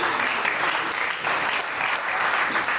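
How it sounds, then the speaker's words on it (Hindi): An audience at a marketing presentation for a children's growth syrup bursts into loud, dense applause, steady clapping from many hands throughout with a slight dip midway. "एक बार जोरदार ताली इस प्रोडक्ट के लिए"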